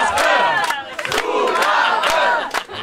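A concert crowd bellows together for an encore, rough massed shouting in repeated surging bursts with short dips between them, loud and close.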